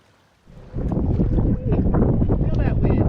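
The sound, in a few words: wind blowing on a sailboat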